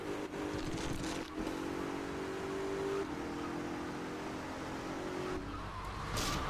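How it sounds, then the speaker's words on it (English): A garbage truck drives in Grand Theft Auto: Vice City, a steady, fairly quiet engine drone with a brief tire-squeal tone running through the middle and no talking. "The garbage truck."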